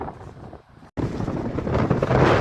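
Wind buffets the microphone on the Florida coast while waves wash in behind it, a loud, steady roar that drops out briefly and then swells again.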